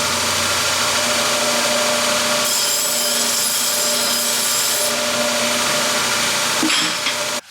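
A power tool grinds a chamfer onto the sharp cut end of a piece of rebar, a loud continuous abrasive whine with steady grinding that shifts in tone partway through before the tool cuts off and spins down at the end.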